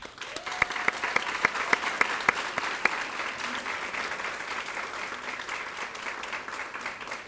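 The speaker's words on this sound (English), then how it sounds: "will you give a huge hand clap?" A school audience at an elementary school's 60th anniversary celebration breaks into applause, a few sharp claps standing out at first before settling into a steady wash of clapping from a mid-sized crowd.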